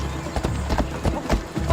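Horse galloping with rhythmic hoof clip-clop in the game Assassin's Creed Odyssey, close and steady under game music and ambience, with a voice speaking over it.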